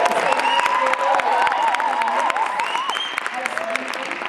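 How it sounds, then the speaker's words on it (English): A studio audience at a live Metro FM radio show breaks into loud, sustained applause with scattered cheers, while a voice carries on over the clapping throughout. "Can I get a round of applause for our studio audience?"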